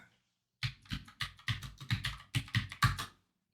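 Close computer keyboard typing, a quick run of about ten distinct key taps in an uneven rhythm, clear and isolated against silence.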